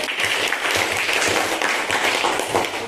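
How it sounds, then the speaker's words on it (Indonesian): Students in a school classroom clap together for a group of classmates, a brisk, even burst of applause filling the room with no talk over it. "Yuk, tepuk tangan untuk kelompok listrik."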